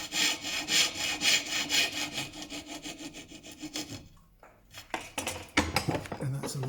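A hand saw cuts through a piece of wood about 4.5 mm thick during a studio camera restoration, giving rapid rhythmic rasping strokes up close, then a brief pause and a few irregular scrapes and knocks at the end.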